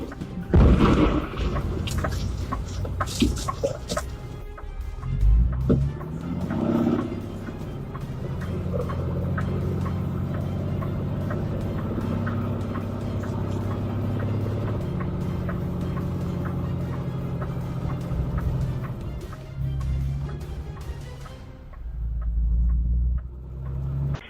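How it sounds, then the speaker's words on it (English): Night-time dashcam capture of a large commercial truck erupting into a fireball: a loud deep rumbling boom with crackling roar that sustains, then tails off. "A driver's dashcam captures the terrifying moment a massive commercial truck transforms into a raging fireball at night."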